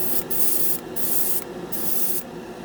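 A $20 Harbor Freight dual-action airbrush sprays Ammo by MIG one-shot primer onto a scale model in four close, loud bursts of airy hiss, with brief pauses between them and no talking.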